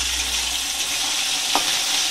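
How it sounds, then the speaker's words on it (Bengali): Green beans frying with salt in white oil in a pan, a steady hiss of sizzling with a brief scrape of stirring partway through, close and alone. "তোমরা চাইলে ঘি দিয়ে ভাজতে পারো, আমি সাদা তেল দিয়ে ভাজবো"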